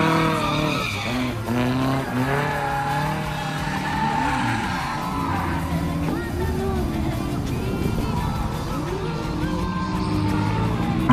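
Race cars tandem drifting on a track, their tires skidding and squealing in long wavering wails over steady engine roar, loud and close throughout.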